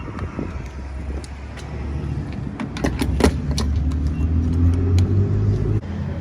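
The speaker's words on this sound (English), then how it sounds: "back on the road, test driving the truck" A GMT800 GM truck drives along a road, its steady engine drone and road rumble rising slightly midway, with a few short clicks and rattles inside the cab.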